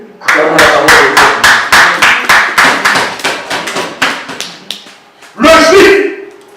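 A church congregation claps in a steady, regular rhythm of sharp, loud slaps that keep going for several seconds before stopping, followed by a short burst of singing or speech.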